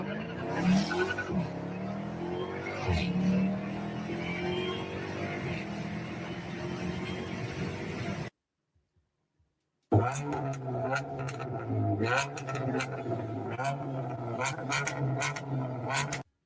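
A Dodge Dart engine revs and roars at a distance in a noisy recording, the sound rising and falling over a rough background, briefly cutting to silence before returning with more revving bursts.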